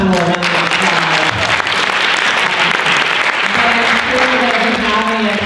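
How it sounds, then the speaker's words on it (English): Audience applause for a panel, steady and fairly loud clapping, with voices talking over it throughout. "give the panel a round of applause"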